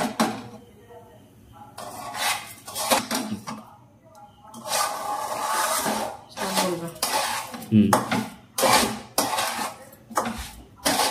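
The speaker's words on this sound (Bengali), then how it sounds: "ততক্ষণ আমরা চিনিটা নাড়াচাড়া করব, চিনিটা যাতে অর্ধেকের বেশি গলে যায়।" Sugar melting in a pan for suji halwa, stirred with a spoon: bursts of scraping and clattering strokes come in irregular runs, separated by short quiet gaps.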